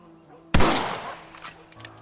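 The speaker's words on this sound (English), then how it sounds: "Your back's tense and it's making the rifle jump." A single loud rifle shot rings out in the Red Dead Redemption western game, a sharp crack followed by a roughly one-second echoing decay with faint sounds after.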